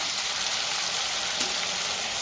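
Frozen peas sizzle in a hot frying pan with potato and cauliflower, a steady close hiss of oil throughout.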